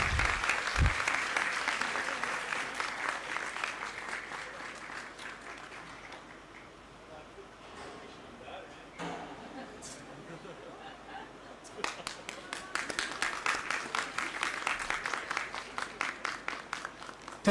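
Student audience at a university G20 celebration event applauding, a crowd of clapping hands that starts strong, fades to scattered claps, then swells again toward the end, moderately distant.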